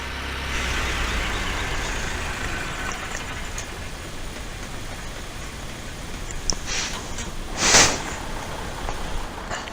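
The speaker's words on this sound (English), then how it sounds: "Also with the squeaky brakes." A classic tractor from the Farming Simulator 17 Farming Classics pack rumbles steadily, then its squeaky brakes let out a brief high squeal near the end.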